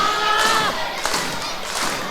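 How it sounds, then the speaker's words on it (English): Dense roar of a 700-strong wrestling crowd cheering and shouting during the SLAM! Rumble 2026 championship match, loud and continuous with a thud from the ring partway through. "This 700 plus crowd right behind our challenger Robbie Eagles."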